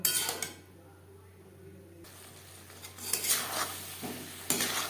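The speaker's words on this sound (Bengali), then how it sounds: "আরও 3-4 মিনিট হাই টু মিডিয়াম ফ্লেমে নাড়াচাড়া করে নেব।" Fried potatoes being stirred in a pan over high-to-medium heat: a few scraping clatters of a spoon against metal, separated by a quiet stretch of soft sizzling.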